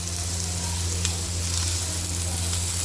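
Chicken sizzles steadily in a pan for a bhindi gosht curry, a continuous close frying hiss with a low hum beneath and a few faint clinks.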